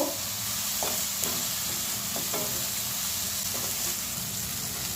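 Poppy seed paste masala for egg curry fries in a pan with a steady, close sizzle, broken by several light scraping stirs of a spatula.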